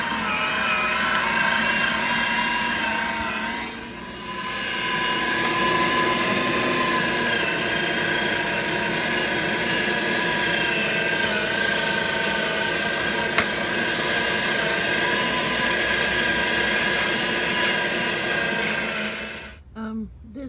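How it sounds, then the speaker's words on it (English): An electric meat grinder runs continuously while grinding cut-up pork shoulder, a steady loud motor whir with a brief dip near the start and a cutoff at the very end. "Since I've already got the grinder out, I'm already grinding pork"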